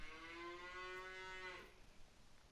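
A cow in Farming Simulator 19 on the Newbrook Farm map gives one long, clear moo that holds steady and then drops off, heard alone over quiet ambient game noise.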